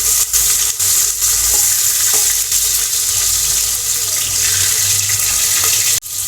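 Green chillies and sliced onions frying in hot oil for a goat head curry, giving a steady loud sizzle with stirring noises throughout and a brief clatter near the end.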